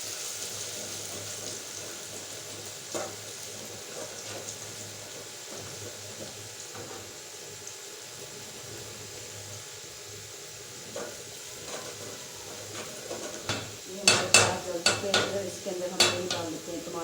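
Black pepper and cumin seeds sizzle in a hot pan, with a spoon stirring and scraping against the metal. The sound stays quiet and steady, then turns sharper and busier toward the end as the stirring clatters and scrapes louder.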